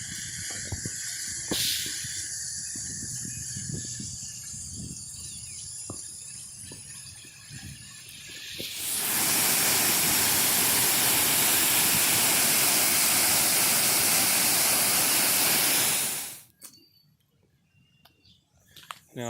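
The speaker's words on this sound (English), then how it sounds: "Here we are out on a little walkway, 77-foot waterfall, right there." A 77-foot waterfall at Natural Falls State Park, heard first from a distance amid faint outdoor noise, then as a loud close steady roar of falling water that cuts off abruptly.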